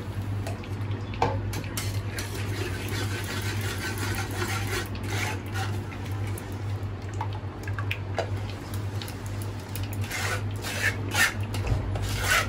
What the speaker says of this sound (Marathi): हे सर्व आपल्याला गाळून घ्यायचं आहे।